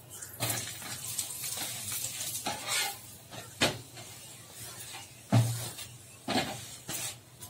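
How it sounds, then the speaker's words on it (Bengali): Aloo paratha, a potato-stuffed flatbread, fries in oil on a pan with a soft steady sizzle, broken by intermittent scraping and pressing sounds, close. "তেল দিয়ে ভালো করে ভেজে নেবো পরোটা।"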